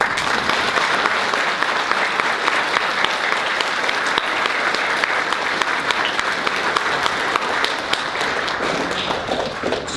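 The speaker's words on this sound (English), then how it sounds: "I hope that this round of applause is loud enough for you to hear a few times over." A crowd at a presentation day ceremony applauds loudly and continuously, a dense wash of clapping hands that holds steady for the full length before thinning slightly at the end.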